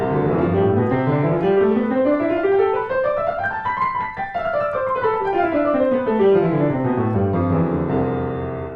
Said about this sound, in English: if you listen to somebody who plays scales and they're sloppy, a lot of times it'll sound like this.